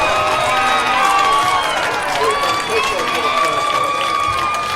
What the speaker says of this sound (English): Listen to the crowd cheer